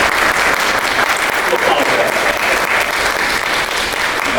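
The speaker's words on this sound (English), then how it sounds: "let's give Mr. Hayes a round of applause" A crowd at a healthcare advocacy day applauds a speaker with continuous, even clapping from many hands, loud and sustained throughout, with a faint murmur of voices underneath.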